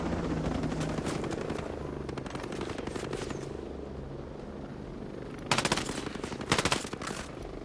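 A helicopter gunship's rotor in Ghost Recon Breakpoint thrums steadily and loudly, then rapid bursts of machine-gun fire rattle out near the end.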